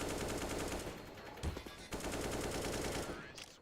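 Rapid automatic gunfire rattles in bursts in Counter-Strike: Global Offensive as shots are sprayed through the bomb, loud and close, with a short break in the middle before the firing resumes.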